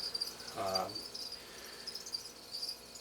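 Steady high-pitched insect chirping, like crickets, runs through the clip, with a brief low thump or knock near the start.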